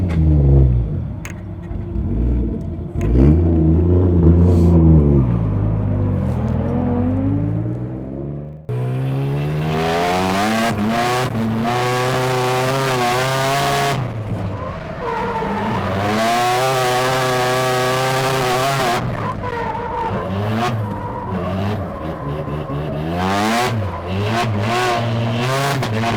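Car engine revving hard on the Owara Circuit race track during D1 drift practice, repeated rising and falling high-pitched revs through gear changes, loud and close, with no talk.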